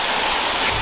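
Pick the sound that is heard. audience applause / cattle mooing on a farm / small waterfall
small waterfall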